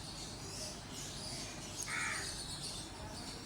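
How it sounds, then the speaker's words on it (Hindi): A single crow gives a brief, distant caw over a low steady outdoor background, with no voices. "आजकल पंजाब की तरह एक कौवा भी आवाज़ निकालने लग जाता, कहाँ करता है।"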